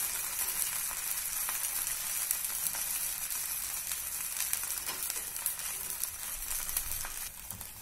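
A rice flakes uttapam fries in oil on a hot pan after being flipped, giving an even, continuous sizzle with a soft crackle that stays close and steady throughout.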